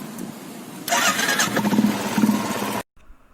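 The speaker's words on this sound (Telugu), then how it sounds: "కార్బొరేటర్ పైపు ఎప్పుడు నైపితే ఒక ఇంజిన్ స్టార్ట్ చేసి చూస్తా." A motorcycle engine cranks and catches after its carburetor pipe is tightened, bursting into a loud, close running idle with a steady rumble for about two seconds before cutting off abruptly.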